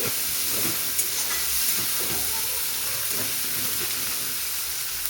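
Onions frying in a pan with raw peanuts about to join them, a steady close sizzle and hiss of hot oil with faint stirring scrapes running throughout, no talking.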